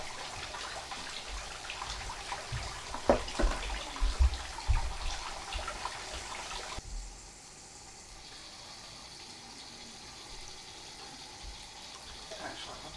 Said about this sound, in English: now I'm going to wash it right into my pan here.